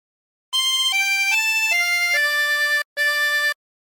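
A harmonica plays a melody of What Shall We Do With the Drunken Sailor as a run of sustained reedy notes, each note distinct, with a short gap before the final note. The notes are clear and close and no one talks.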